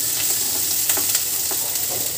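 Ginger stir-fried in a pan for chilli chicken, with a steady close sizzle and faint scraping stirs now and then, no one speaking.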